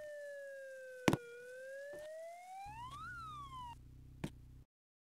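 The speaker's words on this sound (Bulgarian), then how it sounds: "там има полицейска кола" A police car siren in a video game wails in smooth rising and falling sweeps, loud and alone, with a couple of sharp clicks and a low rumbling hum joining near the end before it cuts off.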